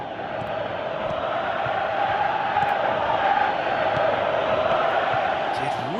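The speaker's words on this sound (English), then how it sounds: "you can feel and hear how the crowd are reacting to all of this" Stadium crowd at a football match, a steady loud roar of many voices swelling slightly and then holding, with no clear individual cheers standing out.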